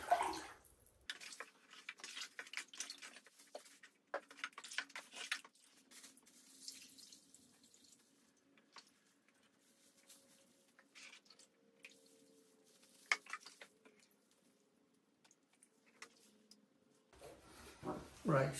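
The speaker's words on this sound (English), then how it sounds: "Okay, so let's pour in the glaze." Ceramic glaze is poured into a large salad bowl, making faint, intermittent liquid splashes and drips in a quiet room, with scattered handling noises between pours.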